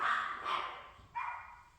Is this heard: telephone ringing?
no